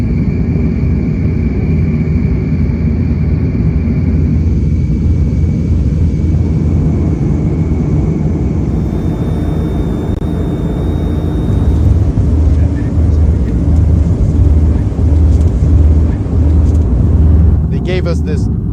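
A passenger airplane taking off from near Vladivostok, heard from inside the cabin as a loud, continuous low engine roar that builds slightly toward the end while a voice talks over it.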